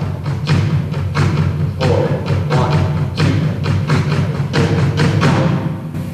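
A drummer plays alternating sixteenth-note triplet sticking on a drum, producing rapid, evenly spaced thudding strokes in steady groupings that run close and fairly loud for several seconds.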